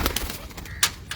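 Cooing from a T40 breed pigeon perched nearby, soft and low under a wash of background noise and a few sharp clicks.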